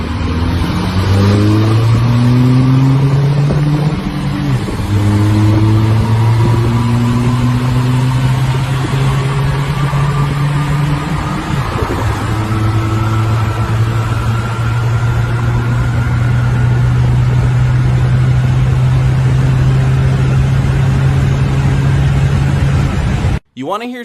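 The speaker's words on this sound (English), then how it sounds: "This is slow car racing." Car engines drone and rev through rising gear shifts, pulling away and holding a steady roar, with talking over the top.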